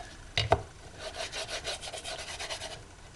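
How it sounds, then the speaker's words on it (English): A silver embossing tool rubs back and forth over an embossed design on a decorated box, giving soft, close scraping strokes in a steady rhythm after a sharper knock near the start. "grab the silver thing again and kind of rub to make, you know, that design of the emboss come out even more"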